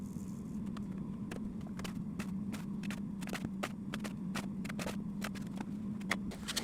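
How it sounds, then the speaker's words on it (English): Sand muller in a home iron-casting setup, mixing foundry sand with a steady low chugging hum and a quick series of sharp clicks and taps, continuous at moderate level in the background. "The weird chugging sound you can hear is the muller in the background preparing some more sand"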